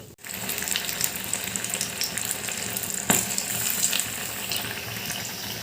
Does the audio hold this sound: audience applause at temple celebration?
no